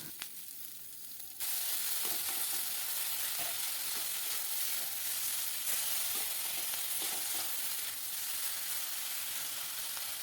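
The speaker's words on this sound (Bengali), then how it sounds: "এক মুঠো কাজু দিয়েছি দুখানা মাঝারি সাইজের টমেটো দিয়েছি দিয়ে বেশ ভালো করে নেড়ে চেড়ে এটাকে ফ্রাই করতে হবে" A handful of cashews and two medium tomatoes stir-fry in a hot pan, giving a steady, close, dense sizzle with scattered stirring scrapes. A quieter stretch at the start gives way to louder continuous frying.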